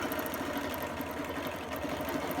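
A quilting sewing machine stitches an all-over Baptist fan design, a steady fast mechanical whirr with a rapid even needle beat running continuously at close range, no voices.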